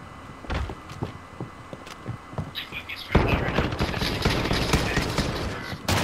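Gunfire in Call of Duty Modern Warfare: scattered sharp shots at first, then from about three seconds a dense, loud burst of rapid automatic fire, with faint voices from players in the match.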